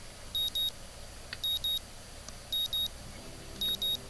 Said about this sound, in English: The sound of an alarm pulls me out of a fitful slumber